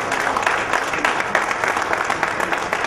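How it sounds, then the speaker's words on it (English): Applause from a crowd at an all-India Jain conference event: a dense, steady wash of many hands clapping together, loud and continuous throughout. "Let's give a big round of applause"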